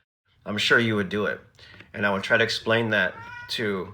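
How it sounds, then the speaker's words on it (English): A house cat meows a few times in the background while someone talks steadily in the foreground, the meows partly masked by his voice. "sorry, that was my cat."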